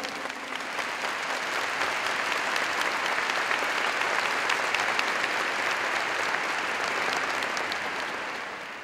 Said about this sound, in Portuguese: Meus irmãos, pode aplaudir então.